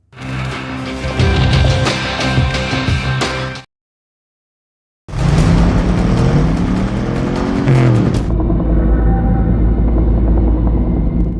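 Racing cars in a drift racing film roar loudly at close range, engines revving and surging in two bursts separated by a brief silence, then giving way to a steadier high-pitched drone.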